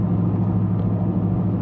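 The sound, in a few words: Lexus LS430 engine running with exhaust cut off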